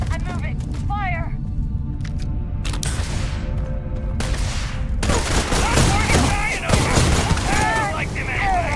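Dense bursts of gunfire and booming blasts in the sci-fi video game Starfield, layered under shouted combat voices and a music bed, growing louder and more chaotic in the second half.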